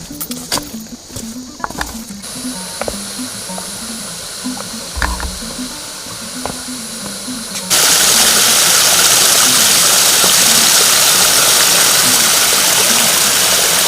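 A waterfall at a spot called la cascade, heard as a loud, steady broadband rush that suddenly swells about halfway through and holds, after quieter moments with a low engine-like drone and scattered knocks.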